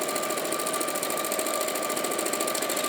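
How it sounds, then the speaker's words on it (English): An Elna 550 sewing machine stitches along the long sides of a fabric bag, a fast, even mechanical chatter that runs close and continuous with no voices. "let's sew all the way around the 2 long sides"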